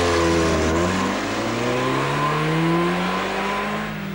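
A 1992 Ford Escort XR3 accelerates hard on a test track, its engine note climbing steadily through the revs, close, loud and continuous with no voices.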